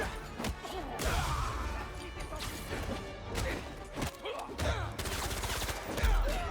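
Dense, rapid machine gun fire and crashing impacts from the video game Marvel's Spider-Man 2 sound continuously at high loudness, with sharp bursts throughout.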